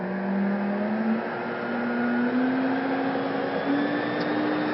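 A Fein Turbo I 6-gallon wet/dry vacuum runs at its lowest speed, a steady airy whir with a motor hum that creeps slowly upward in pitch, close and moderately loud, with no talk.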